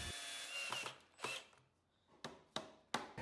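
A power drill drives 2.5-inch screws into wood while building a spoon mule, with a whirring run followed by several short, sharp bursts of the motor.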